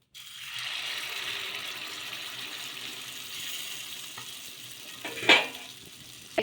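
Corn batter sizzles steadily in hot oil on a pan, a continuous close frying hiss with a brief clatter of a utensil near the end.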